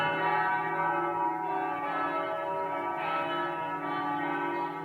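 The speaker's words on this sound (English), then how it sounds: "Oh, there's the bell again." A church bell rings on and on in a rich, sustained peal, its overlapping tones humming steadily and loudly without pause.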